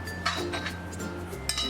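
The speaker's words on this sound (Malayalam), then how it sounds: "ഫ്രൈ ചെയ്ത് വെച്ചിരിക്കുന്ന ചിക്കൻ ഇതിലേക്ക് മിക്സ് ചെയ്ത് കൊടുക്കാം." A spoon stirring fried chicken in a pan, clinking and scraping against the metal several times in an uneven rhythm, close and clear over a low hum, with no talking.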